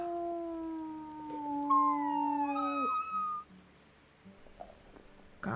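Several wolves in the video game Floodwater Pack Legacy howl together in long, overlapping, sliding tones that rise and fall, fading out after about three seconds and leaving a quiet background.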